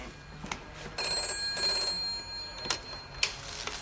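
An old-style telephone bell rings in bursts, a sustained shrill ring separated by short pauses with faint clicks between, fairly close and clear with no talking over it.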